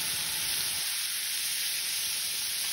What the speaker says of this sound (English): So we've been sauteing or browning our sausage